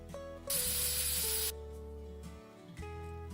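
WD-40 sprayed from an aerosol can during cheap car and bike repair, a loud steady hiss lasting about a second, then quieter mechanical rattling behind it.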